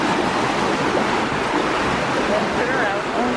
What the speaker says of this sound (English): the water flows all the way by the pool